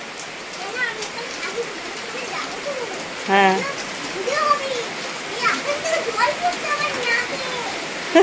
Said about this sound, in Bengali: আকাশ থেকে জল পড়ছে, এলবেস্টার ফাটা, এলবেস্টার থেকে এখানে জল পড়ছে, রান্নাঘরের এপারে জল পড়ছে